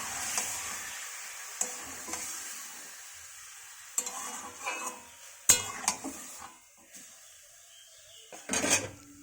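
Meat going into mustard oil with whole garam masala spices, a faint sizzle under repeated metal clanks and scrapes of a spoon stirring in the pan.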